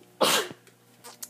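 A single sharp sneeze bursts out loud and close, followed by a short trailing breath and a couple of faint small sounds afterward in an otherwise quiet room.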